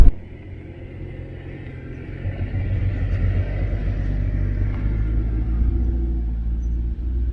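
A car driving off-road down ski slopes near Mont Blanc toward Petit Collet. A brief knock at the start gives way to a loud, steady engine rumble and drone that swells slightly as the vehicle rolls on.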